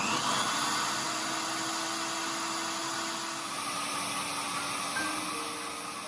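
A benchtop drill press with a bit fitted runs at steady speed, giving a continuous motor whine with faint tonal hums that shift slightly, alone and moderately quiet.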